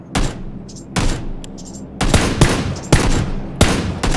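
Gunfire in the shooter PUBG: five or six sharp, loud shots fired in separate bursts, each with a quick echoing decay, with no talk over them.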